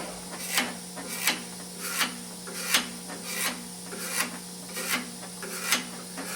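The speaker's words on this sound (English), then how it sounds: "Now I'll take it and I'll scrape the side." A tool scrapes the side of a mixer bowl while making a Nobilium preform, giving about nine evenly spaced rasping strokes roughly every 0.7 seconds over a steady motor hum.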